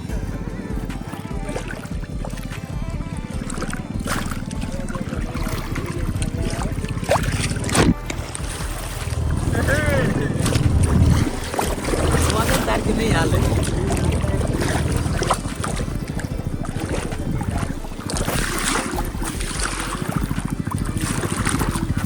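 Boat ride on the open sea near a mini-beach resort, with steady engine and water rumble, wind buffeting the microphone, and people talking over it throughout.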